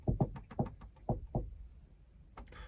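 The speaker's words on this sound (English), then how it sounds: "I prefer the shave and a haircut knock" A shave-and-a-haircut knock rapped on the body of an old van: a rhythmic run of hollow knocks followed by a pause, then two closing raps, close and fairly loud with no talking.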